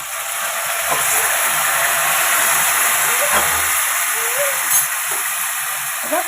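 Chopped onion and tomato frying in a pan for tomato gojju give a steady, loud sizzling hiss that runs unbroken throughout, with faint soft bumps underneath.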